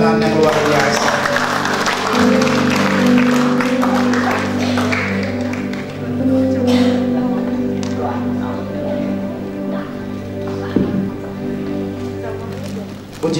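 A crowd at a wedding blessing ceremony claps steadily over loud, sustained music, the applause thinning out toward the end.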